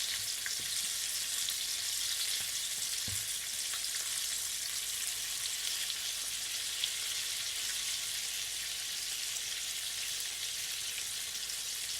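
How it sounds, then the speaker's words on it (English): Red snapper pieces fry in hot oil in a pan for Guyanese-style fish curry, giving a steady, dense sizzle that stays loud and even, with a faint knock or two and no voices. "I'm going to be frying this until it's golden brown"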